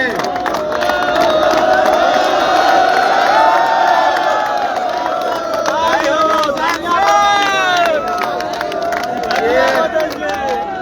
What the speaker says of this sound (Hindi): मैं चाहता हूँ जोरदार तालियां बजनी चाहिए